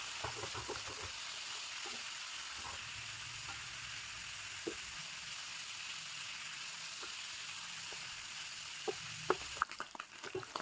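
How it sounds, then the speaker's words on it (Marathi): Paneer cubes frying in hot oil for a paneer matar masala: a steady, faint sizzling hiss runs throughout, dotted with small pops and crackles that grow busier near the end. "याच्यामध्ये आता आपण पनीर ॲड करूया. पनीरला चांगलं फ्राय करून घेऊ आपण."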